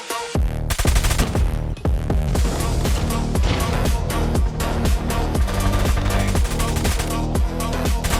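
Type 19 rifle fire in Call of Duty Mobile, a dense rapid stream of loud automatic shots with brief pauses between bursts, continuous through the whole stretch.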